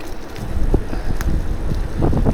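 Steady wind rush buffets the microphone during a bicycle ride, a constant low roar with a few brief rattles and gusts.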